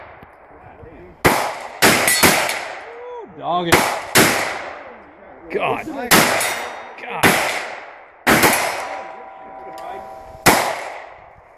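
Loud, sharp gunshots from an AR rifle fire one at a time at irregular intervals, each cracking and ringing out, with brief speech between shots.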